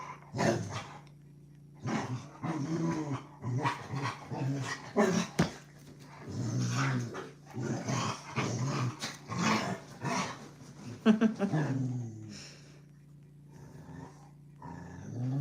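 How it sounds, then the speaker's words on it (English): A dog growls, grumbles and whines in repeated close bursts indoors, a long run of throaty vocal noise with short pauses between. "Leonard, puppy dog. Shush. You're being too noisy"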